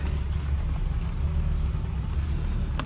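A BMW E30 M3 fitted with an S54 engine idles at around 500 RPM, a steady low rumble that stays continuous and close throughout with no talking.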